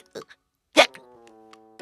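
A cartoon character lets out a sharp hiccup amid brief spoken sounds, followed by a sustained tonal vocal note that trails off.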